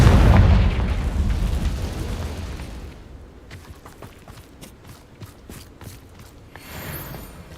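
A fiery Confringo blast spell goes off in Hogwarts Legacy, a heavy low boom rumbling loudly at first and dying away, followed by lighter rhythmic footsteps or tapping.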